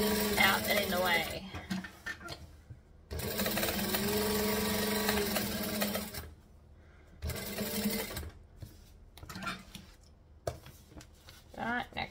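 A sewing machine runs in several bursts of steady whirring, basting bag fabric at the corners, with brief pauses between runs and quiet gaps of talk in between.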